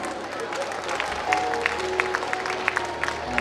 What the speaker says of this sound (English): everyone give them a huge round of applause